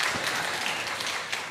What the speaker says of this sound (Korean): 박수 한번 뜨겁게 부탁드리겠습니다.